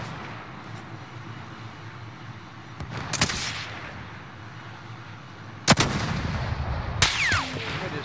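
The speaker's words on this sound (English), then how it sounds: "he's firing off random shots" Gunfire in the video game Warzone: a few sharp, loud reports ring out at irregular intervals over a constant rumbling backdrop, with one crack landing near and the others trailing off in echoing tails.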